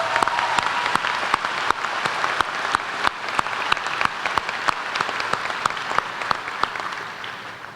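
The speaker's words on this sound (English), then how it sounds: "Let's give them another round of applause" Steady applause from a large commencement audience, dense continuous clapping with sharp individual claps standing out, sustained evenly throughout.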